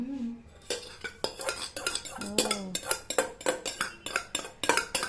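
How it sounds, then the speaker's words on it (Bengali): Steel utensils clank against a rice pot while food is served at a feast, with rapid, uneven metallic clinks and scrapes repeating loudly and close, alone without talk. "ভাত বাবা যে খনকন খনকন করে আওয়াজ করছে"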